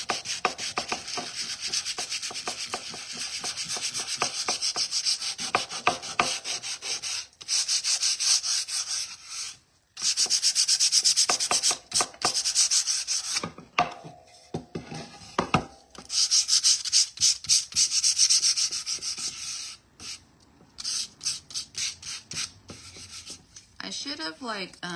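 Sanding by hand to distress the painted edges of shabby chic wooden risers makes rapid, rhythmic rubbing strokes, loud and close, in bursts broken by brief pauses.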